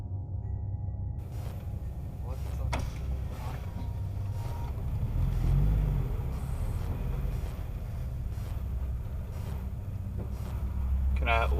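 Dashcam car pulling away with steady low engine rumble and road and wind noise throughout, swelling briefly midway and again toward the end.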